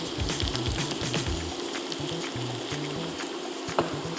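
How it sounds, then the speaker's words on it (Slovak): Chopped onion frying in a pan for a paprika base, a continuous close sizzle with a few clicks and stirring knocks, no talk. "Cibulu si môžeme oprážiť do zlatistá"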